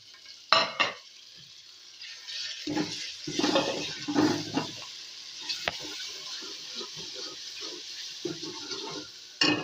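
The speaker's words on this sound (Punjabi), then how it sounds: "ਪਿਆਜ਼ ਸਾਡੇ ਬਰਾਉਨ ਹੋ ਗਏ ਹੈਗੇ ਆ ਤੇ ਮਸਾਲੇ ਹੁਣ ਵਿੱਚ ਸ਼ਾਮਿਲ ਕਰਨ ਲੱਗੇ ਆ" Spices fry in a pan with browned onions, a crackling sizzle broken up by bursts of stirring and scraping against the pan.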